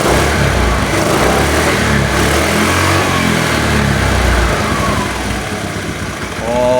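A motorcycle engine running without a battery, held at maximum RPM: a loud, steady, close drone sustained throughout, easing slightly near the end.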